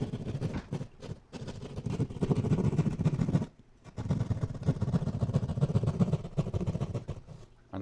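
A saw cuts through drywall at the corners of a mounting hole, giving rough rasping bursts of noise with short pauses between the strokes.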